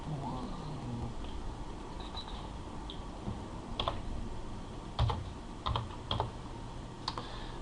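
Password being typed on a computer keyboard, scattered soft key taps and a few sharper clicks, close and quiet over a low background hum.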